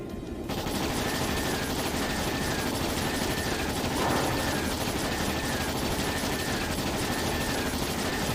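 Attack ships firing in the role-playing game Trails in the Sky SC: a dense, unbroken barrage of rattling shots holds at a steady, loud level throughout.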